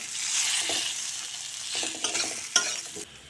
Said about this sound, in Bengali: হলুদ গুঁড়ো, জিরা গুঁড়ো, লঙ্কা গুঁড়ো দিয়ে এবার মশলা কষে নেব।